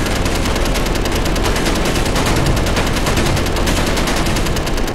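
Rapid automatic gunfire from a space gun in the video game Space Engineers, loud, close and continuous, with dense rhythmic shots and no talk.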